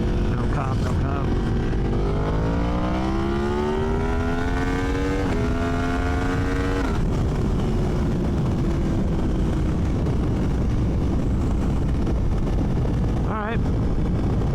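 A motorcycle at high speed roars loud and constant under heavy wind rush, its engine pitch climbing steadily as it accelerates and then dropping back.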